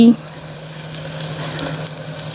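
Steady low sizzle of spices sautéing in a pan while a gravy cooks, with turmeric and masala powder going in, faint and continuous with a small clink near the end.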